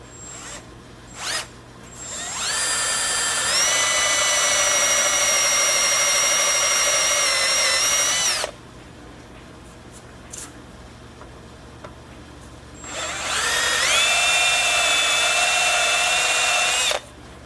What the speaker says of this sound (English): With a Forstner bit, I'm just going to drill these down about 1/8 inch.